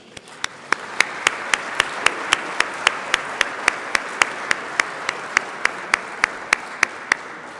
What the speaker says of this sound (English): We will give all our award winners another hearty round of applause.